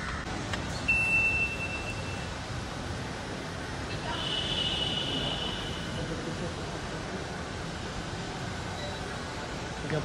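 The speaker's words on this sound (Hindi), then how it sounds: "मेट्रो में आ गया हूँ" Riding inside a moving metro train in Ahmedabad brings a steady low rumble and rushing hiss, broken by a short electronic beep and tones, with muffled voices nearby.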